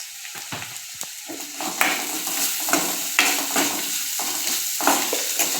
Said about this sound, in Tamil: இந்த அளவுக்கு வதங்கினா போதும், ரொம்ப வதங்கணும்னு அவசியம் இல்லை.